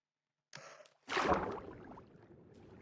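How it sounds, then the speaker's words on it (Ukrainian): Minecraft character gasping for breath after swimming underwater: a short intake, then one loud, close gasp that trails off into heavy breathing. "Відновлюю своє дихання."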